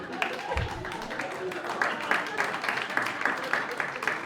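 A comedy club crowd claps and cheers in a brief burst of applause, with scattered voices mixed into the noise.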